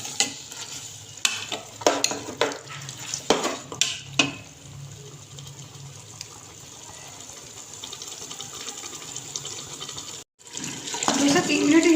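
Minced meat (keema) and capsicum cooking in a pan, with a close sizzle and a run of quick spatula stirs and scrapes at the start that then settle into steady frying, with a brief clatter near the end.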